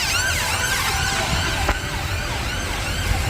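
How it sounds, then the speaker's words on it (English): An ambulance siren wails loudly nearby in London, its rising and falling sweeps repeating quickly over the rumble of street traffic. "Gotta wait for the loud ambulance to go past."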